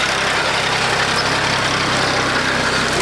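A tractor engine runs steadily on farmland, a loud, continuous drone that holds the same level throughout with no break.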